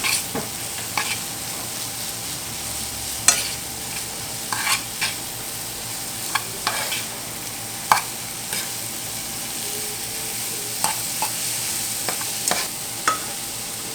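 Spaghetti squash strands are tossed and stirred in butter in a hot pan, giving a soft continuous sizzle broken by repeated sharp scraping and utensil clicks, close and unaccompanied by talk.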